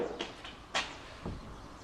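A locked door at an abandoned garden centre in Ta' Qali, Malta, tried by hand: a few short knocks and rattles, then one sharper clunk and a dull thud, close by over faint outdoor hiss.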